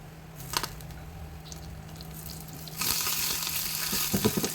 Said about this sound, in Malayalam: അതിലേക്ക് രണ്ട് വറ്റൽ മുളകും കറിവേപ്പിലയും ചേർത്ത് നന്നായി വഴറ്റിയതിന് ശേഷം കറിയിലേക്ക് ചേർക്കാം